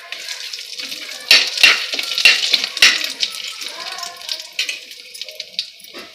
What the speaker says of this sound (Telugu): ఇప్పుడు మసాలా దినుసులన్నీ వేగాయి కదా